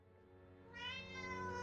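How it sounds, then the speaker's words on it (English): A cat in the game Vertigo meows in a drawn-out, rising cry that swells partway through and carries close and clear over a low steady background hum, with no talking. "this cat's annoying"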